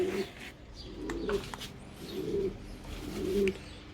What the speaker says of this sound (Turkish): Bunlar da kısa gaga arkadaşlar. Yavrularımız.